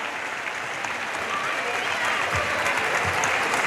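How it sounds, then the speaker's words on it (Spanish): Thick, sustained applause from a large crowd at a Christmas lights switch-on event at Marineda City in A Coruña, continuous and even, with faint voices mixed in underneath. "¡Fuerte aplauso!"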